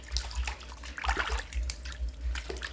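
Fish meat being rinsed under running water for Thai fermented fish, a steady splashing and trickling stream with irregular drips and swishes, close and moderately loud.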